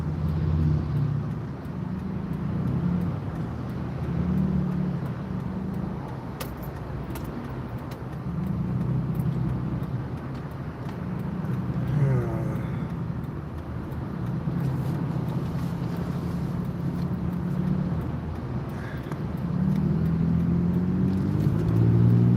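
A car driving on a road gives a steady, loud low rumble of engine and tyres, with a slight rise and fall in pitch as it moves along and no talking.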